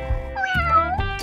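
A cat meows twice in quick succession, close and clear, the second call shorter with a rising, wavering pitch.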